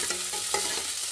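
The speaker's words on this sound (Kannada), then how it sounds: "ಇವಾಗ ಈರುಳ್ಳಿ ಹಾಕ್ಕೊತೀನಿ." Onions tossed into about a spoonful of hot oil for a moong dal dish fry with a close, steady sizzle, punctuated by a few scraping stirs of a spoon against the pan.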